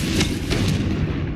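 A Confringo blasting spell in Hogwarts Legacy bursts in a short, heavy explosive boom with deep rumbling low end and a couple of sharp cracks, loud and close.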